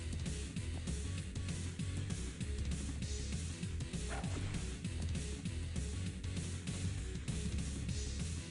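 A dog in the X-piratez game barks and yips in quick, repeated bursts, with whimpers mixed in, over constant loud game music and noise.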